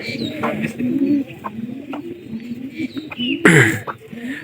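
Pet pigeons in a loft coo repeatedly, close and fairly loud, with several overlapping throaty calls and a brief louder flutter near the end; occasional faint voices sit in the background.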